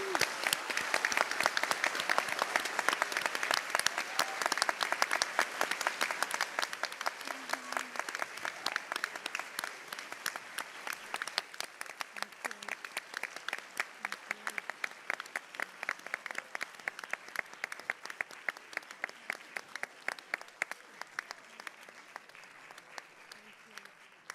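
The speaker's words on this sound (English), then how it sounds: "let's give our class of 2022 one final huge round of applause to congratulate them" A hall audience applauds the graduating Class of 2022 at a valedictory ceremony, loud dense clapping at first that thins into scattered, distinct claps as it fades out.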